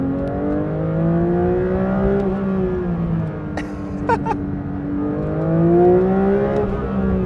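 A 2024 Porsche 911 S/T engine revved out a gear lower, its loud, close note climbing and then falling away around a gear change, with brief clicks in the middle and a second climb toward the end.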